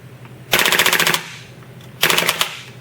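A WE M4 open bolt gas blowback airsoft rifle dry firing on fully automatic, heard as two loud, close, rapid bursts of metallic clatter of about half a second each, separated by a short pause.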